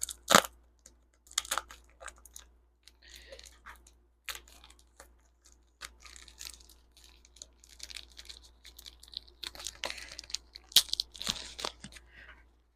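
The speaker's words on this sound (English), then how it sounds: "Definitely going to need something to cut this guy open." Cutting into the packaging of newly arrived parts for a Yamaha YZ125 dirt bike: sharp tearing, crinkling and scraping bursts come in irregular clusters, close and fairly quiet, with short pauses between them and no talk.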